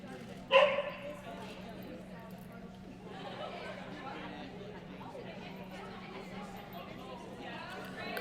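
Flame, a dog running an AKC agility course at team tryouts, gives one sharp bark near the start, then crowd chatter and arena noise carry on steadily.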